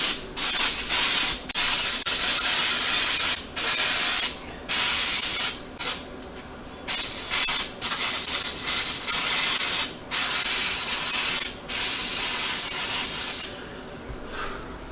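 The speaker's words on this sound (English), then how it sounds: "So what I do is clean these off with some brake clean, get them good and degreased." Brake cleaner sprays onto engine seals to degrease them during an LS1 cam swap, loud repeated hissing bursts of varying length with short pauses between, close up and alone.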